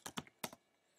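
A few quick keystrokes on a computer keyboard as a password is typed, close and crisp, in three short bursts with a pause before a final tap.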